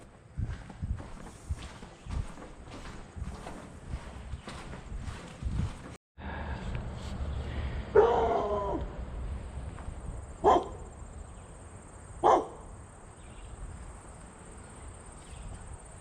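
A dog barks a few times at a distance outdoors in a rundown part of town, sharp isolated yelps over insect chirping and footsteps.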